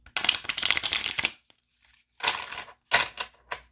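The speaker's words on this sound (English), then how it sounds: "That's what I call a perfect shuffle." Crisp riffling of playing cards being shuffled, two or three quick bursts separated by short pauses, close and clear.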